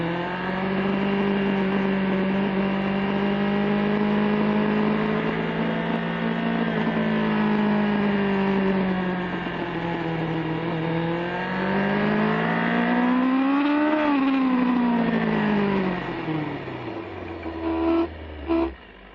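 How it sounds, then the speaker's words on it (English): A motorcycle engine runs steadily at idle to warm up in cold weather, loud and close, with the pitch rising in a brief swell around the middle and then dropping as it settles. "Rhino, why'd you start your bike? It's cold, and I'm trying to warm up."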